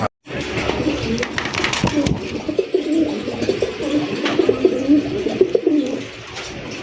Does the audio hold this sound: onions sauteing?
no